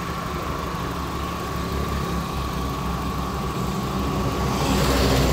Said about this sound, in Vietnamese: Máy im đét nhá.